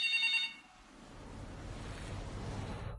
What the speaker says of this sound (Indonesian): Apa kamu dengar teleponnya berdering?